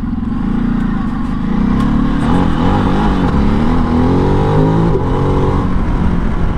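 A Ducati DesertX adventure motorcycle's engine revving loud and close, a continuous throaty drone that rises and falls as the bike pulls away, with no voices.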